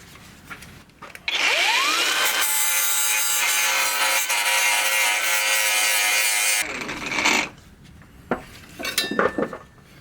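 A power tool cleans up a metal edge on a Citroën BX body panel before welding, giving a loud, steady abrasive grind with a high whine for about five seconds, followed by scattered clanks and scrapes of metal.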